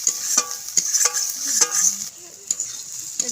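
Katla fish pieces frying with garam masala in a pan, a close, steady sizzle broken by sharp scraping clicks of a spatula stirring at an irregular rhythm.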